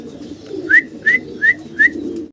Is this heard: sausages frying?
no